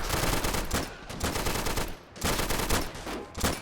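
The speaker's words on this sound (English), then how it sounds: "It shreds, but it can only shoot in small bursts like that." Automatic gunfire rattles in short rapid bursts during plastic army soldier combat in Army Men: Plastic Wars, loud and continuous with brief gaps between volleys.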